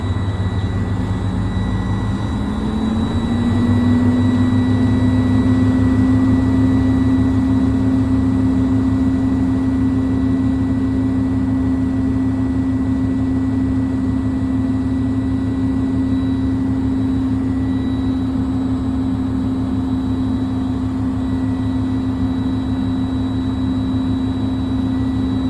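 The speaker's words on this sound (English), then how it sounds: "I'm going to rev my engine now until it sneezes and the air governor cuts off." Truck tractor engine revved and held at a steady high drone until the air governor cuts off, with one short rise in pitch early on and no talking.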